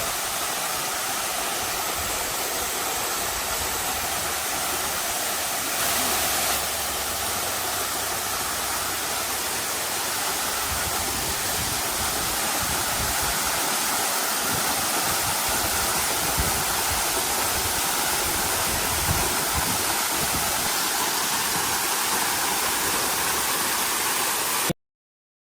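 Steady broadband rush of a waterfall in the forest of Kolli Hills, a dense continuous roar lasting the whole stretch, close and even with no speech over it.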